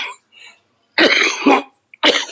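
A person with a cold coughs a few times, harsh close bursts separated by short pauses, with faint voices briefly before.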